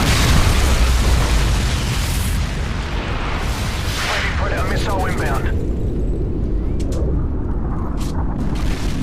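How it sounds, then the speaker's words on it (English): A Predator missile strike in a Call of Duty–style shooter lands as heavy booming blasts with sustained rumble and crackle, loud and close, while game announcer voices speak over the chaos. "Friendly Predator missile inbound."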